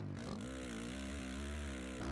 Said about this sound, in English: I think I hear engines, so we're coming up on somebody.